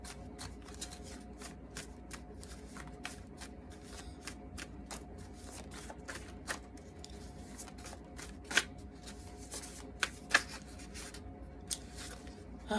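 Tarot cards being shuffled by hand, a soft, close riffling and flicking with scattered crisp card snaps and taps over a quiet room background.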